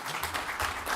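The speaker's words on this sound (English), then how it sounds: "A big round of applause for Ramiro Berardo" An audience at a World Water Day documentary screening claps for a presenter, heard as a brief, dense burst of applause without voices.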